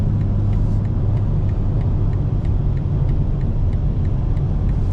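A 2025 BMW M4 Competition with active sound design drones steadily from inside the cabin while driving, a low continuous engine rumble with a faint rhythmic ticking on top, no talking.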